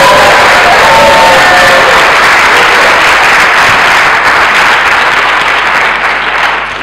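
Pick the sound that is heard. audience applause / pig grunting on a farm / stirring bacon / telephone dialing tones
audience applause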